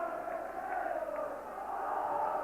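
Big noisy football crowd at an Aberdeen v Rangers match in 1996, a distant continuous roar and murmur of fans with occasional swells, under a faint commentary voice.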